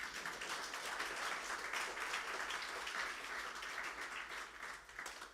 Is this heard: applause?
yes